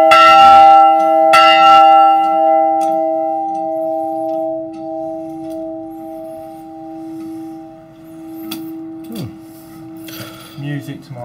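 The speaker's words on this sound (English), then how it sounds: "They do say that the ringing of a bell keeps bad spirits away." Church bell in an old convent rings with a loud, sustained tone that slowly decays, then a few fainter clangs and knocks near the end.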